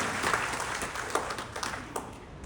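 An audience at a felicitation ceremony for newly elected legislators applauds, a moderate patter of many hands that gradually thins out, somewhat distant in a hall.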